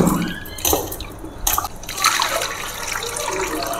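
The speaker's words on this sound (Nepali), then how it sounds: "राम्रोसँग सफा पानीले पखाल्ने।" Small potatoes are rinsed in clean water by hand, with close splashing, dripping and sloshing that comes in uneven bursts and then settles into a steady wash.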